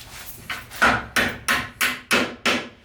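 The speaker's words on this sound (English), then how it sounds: "Where's that hammer right there?" Hammer blows ring out in a workshop, about eight sharp strikes in a steady, accelerating rhythm, close and loud with no talking.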